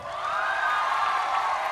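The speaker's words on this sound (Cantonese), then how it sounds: "掌聲！" An audience cheers and whoops steadily for a short stretch at a school stage show, a bright sustained crowd roar with no single voice standing out.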